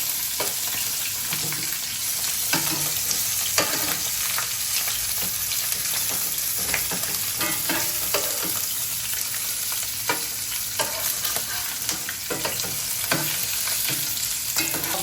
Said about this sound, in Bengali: বড় তাওয়ার মধ্যে ভাজতে দিলেন একবারে ভাজা হোক